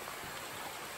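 Cripple Creek, a mountain stream below Priest Mountain along the Blue Ridge Parkway, flows in a brief, steady wash of noise heard up close.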